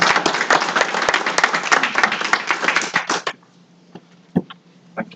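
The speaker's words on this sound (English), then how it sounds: "And give him a big round of applause." An audience at an economic summit claps loudly and densely for about three seconds, then the applause cuts off quickly, leaving a quiet room with a few scattered final claps and small knocks.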